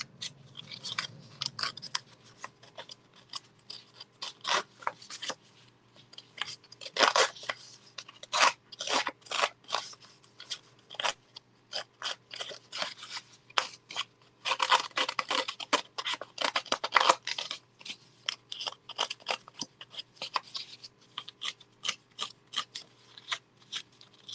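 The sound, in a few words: scratching up sides of craft piece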